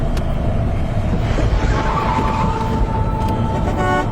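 A car drives along a deserted road through forest, a steady, dense rumble of engine and road noise that stays loud and unbroken, with a faint higher tone running through it.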